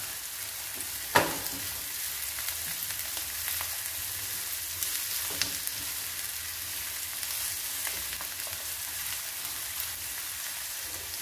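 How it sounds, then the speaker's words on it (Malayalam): Finely chopped onions sauté in a pan for a green peas and potato masala curry, giving a steady close sizzle and crackle with an occasional sharp spoon knock, no talking. "നമ്മുടെ സവാള നന്നായിട്ടൊന്ന് ഒരു ഒന്ന് വഴന്ന് വരണം"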